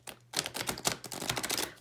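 A large tarot card deck is shuffled by hand, giving a close, steady run of quick papery riffling clicks.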